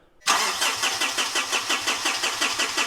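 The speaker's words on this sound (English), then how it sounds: "This is our 2013 Mitsubishi Fuso FG that is still refusing to start." A 2013 Mitsubishi Fuso FG truck with a 4P10 diesel cranks with a rhythmic, pulsing starter churn after a sudden onset, loud and close, without catching.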